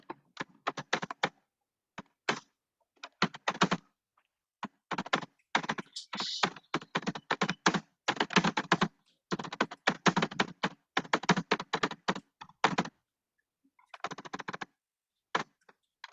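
Keys clatter on a computer keyboard during a Core Java programming class, typed in quick bursts broken by short pauses and running steadily for many seconds, close and clear with no talk.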